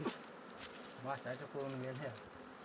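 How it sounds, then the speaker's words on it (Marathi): Bees buzz around a wild honeycomb on a rock in a village, a faint, steady hum in the background while a person talks close by. "हवेत माश्या जवळून दाखवतो मित्रांनो तुम्हाला"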